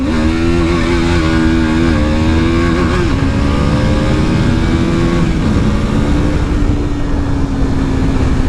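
A KTM RC 390 Gen 3 motorcycle rides past with a steady, loud engine drone, its pitch rising and dropping through gear shifts over several seconds.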